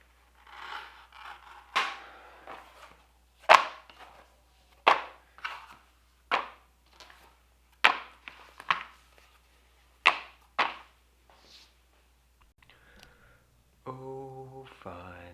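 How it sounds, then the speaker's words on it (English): A razor knife cutting out leather knife sheaths in about a dozen sharp, separate slicing strokes, close and crisp against quiet, followed by a short burst of a tonal hum at the end. "I'm just going to cut all of these out. Got my trusty razor knife here."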